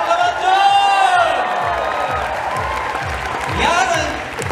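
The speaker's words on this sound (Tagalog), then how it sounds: "Palakpak naman dyan!" Applause and cheering from a training-seminar audience fill the hall, a dense steady wash with whoops and raised voices over it, holding loud throughout before swelling again near the end.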